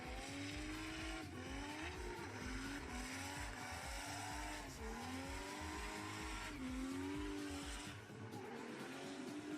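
Drift car, a 2.5 turbo stand-in for a Nissan, at a drift event, screaming through its engine with long tire squeals and skids, engine pitch rising and falling steadily throughout, fairly near and loud.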